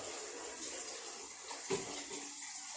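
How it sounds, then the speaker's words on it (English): Hot water pours steadily into a cooking pot with a soft, continuous splashing hiss, faint and close, while tigernut milk is being prepared in a kitchen. "I'm pouring my hot water into"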